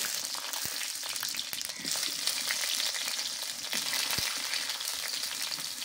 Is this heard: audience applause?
no